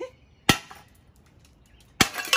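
Two sharp, loud hammer smacks on a metal part about a second and a half apart, each a close, ringing impact with brief quiet between.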